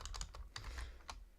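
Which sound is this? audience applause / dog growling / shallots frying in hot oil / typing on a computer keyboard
typing on a computer keyboard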